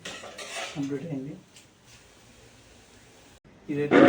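Cooked Maggi-style egg noodles being served from a pan into a bowl: metal utensil scrapes and clinks against cookware, a quiet pause, then a louder clatter at the end, with a voice speaking over parts of it.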